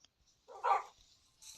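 A dog in Minecraft gives a single short yelping bark, fairly faint, with a brief higher squeak just after.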